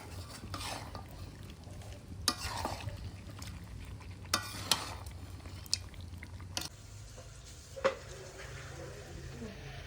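Food stirs in a pot over a wood-fired stove, with soft scraping and several sharp clinks of a utensil against the pot over a low, steady background hum.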